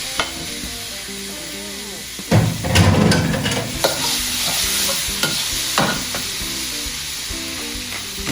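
Beef rendang ingredients are scraped and stirred in a hot pan, giving a steady sizzle and frying hiss broken by scraping bursts of the utensil against the pan.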